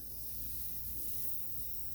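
A steady, faint hiss of refrigerant escapes as a car A/C charging hose is taken off, continuous and even for a couple of seconds with no voices.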